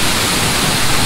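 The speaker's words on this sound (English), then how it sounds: "Little underground waterfall right there." An underground waterfall inside a limestone cave roars as a loud, dense, unbroken rush of water, close and steady throughout the brief moment.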